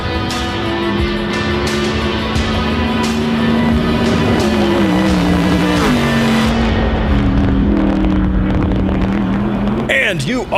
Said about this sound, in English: Those car sounds you just heard were from Jimmy Ford, Pikes Peak hill climb driver.